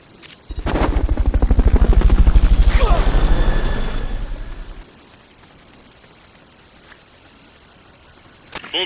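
Helicopter in the video game Metal Gear Solid: Peace Walker: a loud, rapid rotor thumping swells over the first few seconds, then fades and thins into a quieter steady hum.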